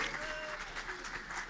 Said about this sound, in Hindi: इनका पूरा गैंग तालियां बजा रहा है